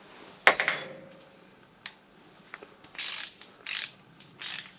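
A ratchet wrench clicks close up through a few short bursts of pawl ratcheting, with pauses between strokes after an initial metallic clank and no talk.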